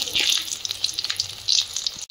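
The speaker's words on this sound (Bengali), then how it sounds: "কড়াইতে তেল দিয়ে দেবো, শাপলার তরকারিটা বসিয়ে দেবো।" Water lily curry sizzling and frying in hot oil in a wok, a steady close crackle with bursts of spitting and stirring, stopping abruptly at the end.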